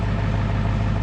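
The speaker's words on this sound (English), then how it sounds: "Got the truck warming up" A farm truck idles while warming up on a muddy morning, a steady low engine hum with a constant rumble and no changes in pitch over the short stretch.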